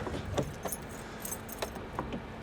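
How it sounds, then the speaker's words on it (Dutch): Keys jingle and clink faintly in a few light bursts as a wheel lock key for a car is handled outdoors, with quiet background noise. "Dan kan je de kijk sleutel erin doen."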